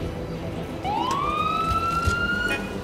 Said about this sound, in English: he even turning on the siren too